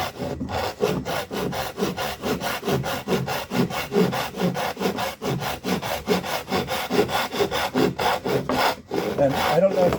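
A Japanese pull saw cuts through wood in steady, rapid rasping strokes, close and loud, with a fast even rhythm and no pauses until a brief break near the end.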